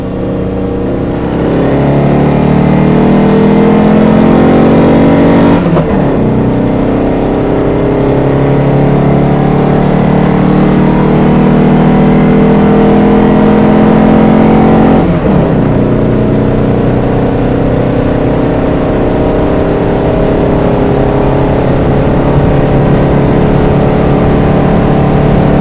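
A 1953 Volkswagen Beetle split-window with an air-cooled engine idles and runs steadily and loudly up close, with a slight rise in pitch near the start and two brief dips around a third and two thirds of the way through.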